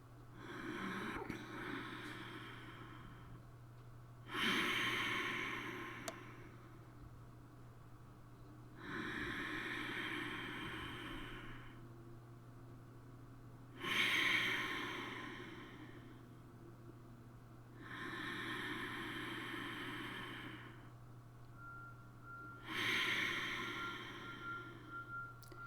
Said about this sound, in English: Mouth closed, but you are making a sound when you are breathing.